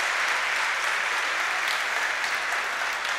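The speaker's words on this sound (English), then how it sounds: "nice appreciation from the crowd there for Pantic." A crowd at the U23 European Judo Championships in Podgorica applauds a bronze medalist, producing dense, steady clapping that carries evenly throughout with no talk over it.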